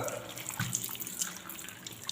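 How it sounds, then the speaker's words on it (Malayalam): A household tap is opened for washing while wearing gloves, water streaming into a sink with a continuous near hiss and small splashes throughout. "ഇതുപോലെ കയ്യിൽ ഗ്ലൗസ് ഇട്ടതിന് ശേഷം വെള്ളം തുറക്കുക"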